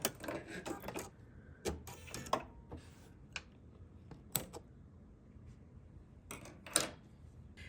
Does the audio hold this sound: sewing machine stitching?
yes